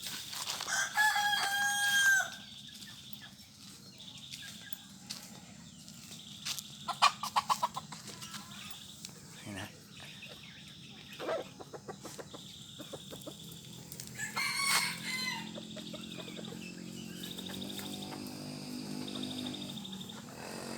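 Rooster crowing on a Thai farm, a breeding cockerel giving several clear crows spread across the stretch, with clucking hens and scattered farmyard noises between them, fairly close and moderately loud.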